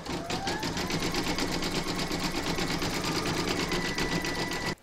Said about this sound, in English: the next round, number 6, is going to zigzag all the raw edges and then do the satin stitch finish around them as well